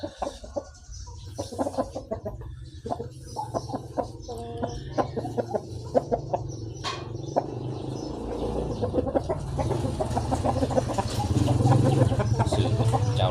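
A Lao breed chicken clucks repeatedly in short, irregular bursts outdoors, fairly close, over a low steady background hum that grows louder toward the end, with no speech.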